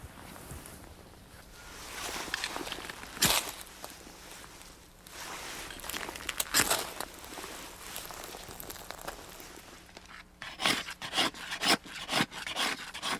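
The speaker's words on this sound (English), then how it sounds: "scraping away the inner layer of this reindeer skin" A blade scrapes the inner layer of a reindeer skin in Siberia, a close series of rasping strokes with sharper bursts toward the end, no talk.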